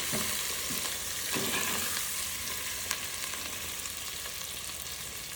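Stuffed eggplants with asafoetida, cumin and coriander frying in hot oil in a pan, an even close sizzle with a couple of soft stirring knocks, no voices.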